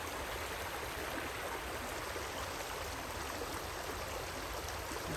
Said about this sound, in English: You can hear this water